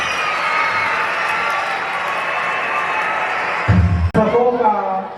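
An audience of grandparents at a school event applauds and cheers for a little girl's dance, a broad crowd roar of clapping that swells, then cuts to louder close cheering with a voice speaking over it.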